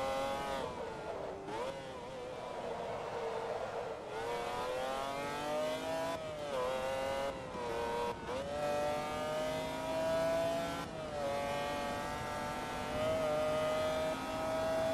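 A McLaren F1 supercar engine in the Forza Motorsport 2 racing game revs hard through repeated gear changes, each pull climbing in pitch before a brief dip and another rising wail, loud and continuous.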